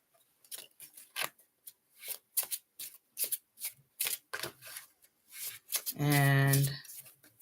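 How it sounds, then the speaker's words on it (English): Tarot cards being shuffled during a live reading: a run of short, crisp riffling bursts, then one loud sustained riffle near the end. "Shuffle it a few more times."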